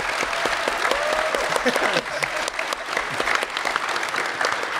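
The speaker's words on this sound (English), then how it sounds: "big round of applause for them" Festival audience at a Red vs. Blue animation event giving a big round of applause, lively continuous clapping from a crowd with a few scattered claps standing out, and a voice briefly speaking over it.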